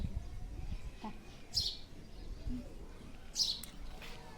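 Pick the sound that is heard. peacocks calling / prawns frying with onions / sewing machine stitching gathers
peacocks calling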